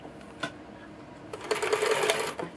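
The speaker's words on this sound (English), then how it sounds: "you're going to simply just sew and follow that line." A sewing machine stitches fabric along a curved seam with a 5/8 inch allowance, a short close whirring burst of rapid needle clatter after a brief quiet pause with a faint click, and no talking.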